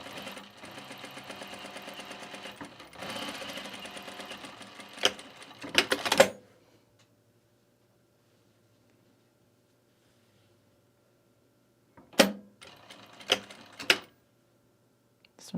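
A Juki TL sewing machine stitches in fast, steady bursts up close, with a stretch of quiet between runs and a few short backtacking spurts later.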